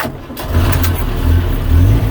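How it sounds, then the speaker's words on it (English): A Series IIA Land Rover engine cranks and catches, settling into a steady low rumble that swells slightly, loud and close. "as soon as I start the engine"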